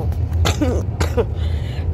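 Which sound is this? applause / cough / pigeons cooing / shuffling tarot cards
cough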